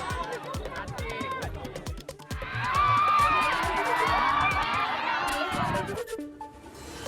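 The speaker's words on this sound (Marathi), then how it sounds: "जेव्हा हे बोकड मैदानात सुसाट सुटले तेव्हा प्रेक्षकांनी टाळ्यांचा कडकडाट केला." Spectators at a goat cart race, with small carts pulled by goats, clap and cheer in a loud crowd roar that swells midway and holds for several seconds, mixed with shouting and chatter.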